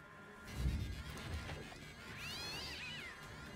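Several cats meowing and caterwauling in the South Park The Fractured But Whole video game, a long wavering yowl rising above low thuds and game ambience, moderately loud.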